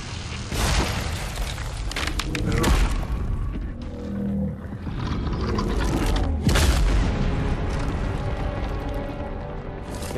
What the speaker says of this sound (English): Gonna destroy that gate.